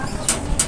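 Racing pigeons back from a south training toss, with two short, soft high calls about a third of a second apart over a low background hum.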